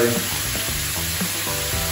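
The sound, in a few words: food frying in a pan for carbonara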